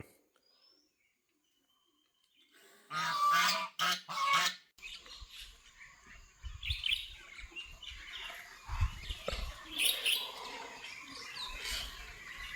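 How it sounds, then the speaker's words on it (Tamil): Two real ducks honk in a few loud, close bursts, followed by quieter outdoor ambience with distant bird chirps and scattered rustling. "இது வந்து ரெண்டுமே நிஜமான வாத்துங்க"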